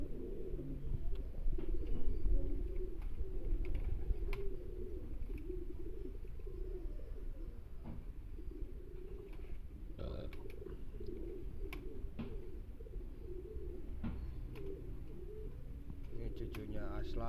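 Pigeons cooing at a bird gathering, repeated low, throaty coos layered in a continuous murmur, with people talking in the background throughout.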